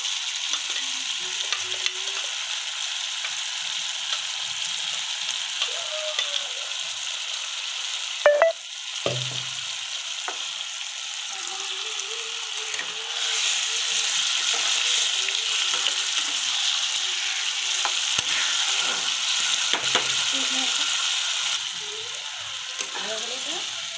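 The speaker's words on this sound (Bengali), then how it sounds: "মশলাটা আধা ভাজা হয়েছে" Spices with turmeric fry and sizzle in a pan for a dried fish recipe, a steady hissing crackle broken by occasional stirring scrapes and a brief clatter of the utensil, with the sizzle swelling louder partway through.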